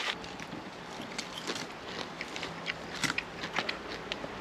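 Crisp fried fish is bitten and chewed close up, with several sharp crunches and crackles scattered through a quiet, low-level stretch and no talk.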